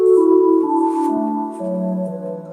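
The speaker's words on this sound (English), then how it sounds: "16-foot a harmonic nasal, that sounds like this." A 16-foot harmonic nasal organ stop plays a sustained, slowly shifting line of low held pipe tones, steady and fairly loud throughout, with no voices present.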